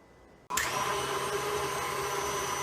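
An electric mixer whirs to life after a brief quiet, beating cream cheese in a bowl for a no-bake blueberry cheesecake with a steady, close, high motor drone.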